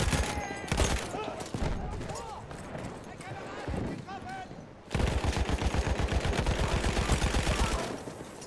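Gunfire in the Battlefield 1 video game: rapid bursts of automatic fire with repeated close shots, loud and rhythmic, mixed with battle noise and voices talking.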